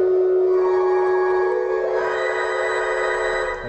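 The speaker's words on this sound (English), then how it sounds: "And reverberation sounds like this." A synthesized test tone smeared by digital reverberation built from recirculating delay lines, giving a dense, sustained wash of ringing partials that fades slightly near the end, with no voice present.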